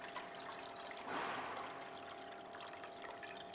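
Tap water pouring into the bath of an ultrasonic cleaning unit, a steady trickling splash that swells briefly near the start and then runs on evenly and fairly faintly.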